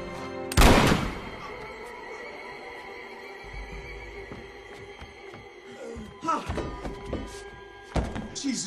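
A gunshot in a movie scene rings out as a single loud, sharp blast near the start, followed by quieter rustling and a couple of thuds, with voices talking afterward.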